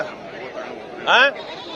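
At a weekly sheep and goat market in Honnalli, Karnataka, a goat gives one short, fairly close bleat over the low chatter of people talking nearby.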